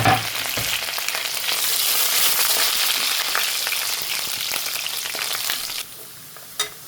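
Chopped garlic hits hot oil in a pan for a Gujarati magra dish, a sharp opening burst then a dense, loud sizzle with crackles that drops sharply near the end, followed by a single clatter, with no talking.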